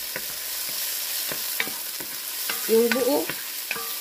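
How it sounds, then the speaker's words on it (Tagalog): Garlic sautéing in a pan for beef bone marrow soup, a loud, close, steady sizzle with scattered crackles and pops, and a brief voice speaking partway through. "Ngayon, ilagay natin ang garlic."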